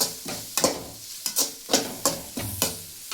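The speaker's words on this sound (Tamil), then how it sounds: "போட்டு ஒரு ஒரு நிமிஷம் நல்லா வதக்கிக்கலாம்" Spice powders (chilli, turmeric, cumin, asafoetida) being stirred and sautéed in a pan for a drumstick stir-fry, with a soft sizzle under sharp, regularly spaced scraping strokes of a spoon against the pan.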